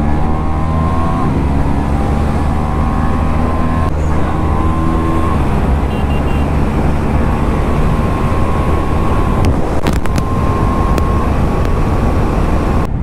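A KTM Duke 390 motorcycle fitted with an Akrapovic exhaust rides steadily along a valley road, its loud engine drone holding a constant tone close by for the whole stretch with no talking.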